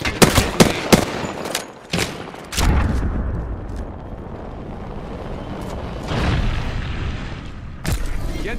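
Gunfire in the Apex Legends battle royale video game: sharp bursts of close shots and booms at the start, then a sustained rumbling of fire and impacts, with a few more loud cracks near the end.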